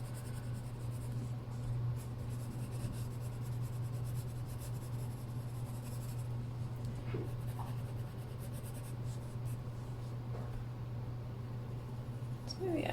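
A colored pencil blends and burnishes on paper with a continuous soft, scratchy rubbing. Faint strokes sit over a steady low hum, and there is no talking.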